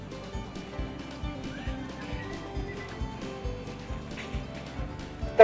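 A horse neighs during a cutting competition as a rider works a fast-moving cow, with steady hoof and arena noise underneath and a brief louder burst at the end.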